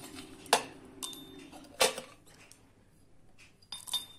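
Almonds drop into a mortar for pounding in a kitchen, giving a few sharp, hard clinks and rattles in separate bursts, close and fairly loud against a quiet background.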